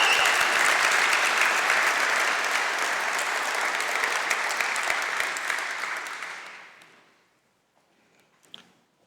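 A large crowd at a Syracuse University College commencement ceremony for the class of 2016 applauds loudly and steadily for about six seconds, then the clapping fades to silence, followed by faint room noise.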